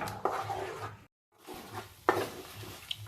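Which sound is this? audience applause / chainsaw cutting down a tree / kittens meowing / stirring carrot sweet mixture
stirring carrot sweet mixture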